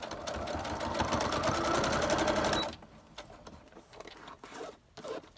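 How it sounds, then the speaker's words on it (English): A sewing machine stitches lace onto laminated sheets in a rapid, even mechanical whir for a few seconds, then stops, leaving quieter handling noises. "that's obviously stitching the lace in place as well"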